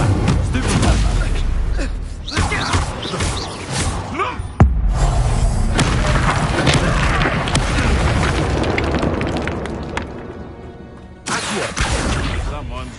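A Stupefy spell cast in Hogwarts Legacy, part of a combat string of spells, lands as loud booming blasts and bursts over continuous game noise and voices, with a sharp impact near the middle.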